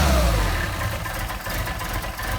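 Mercedes 190SL engine with Solex carburetors idling after a flooded start, a loud close rumble that eases slightly from an initial surge and then runs steady and even, with no talking.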